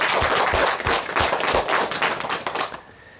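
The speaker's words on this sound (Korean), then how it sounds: "큰 박수 부탁드립니다" An audience claps together at a talk, a dense close patter of hands lasting about three seconds before quickly dying away.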